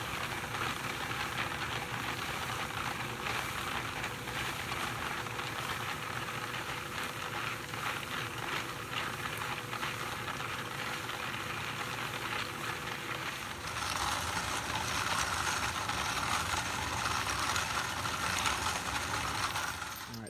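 Frankford Arsenal Rotary Tumbler Lite with a new agitator tumbling brass cartridge cases, a steady rattling, grinding churn at low level that continues throughout.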